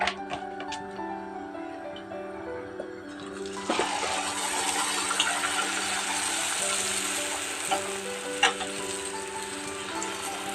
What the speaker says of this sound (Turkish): Bir tane daha kızartayım sizle.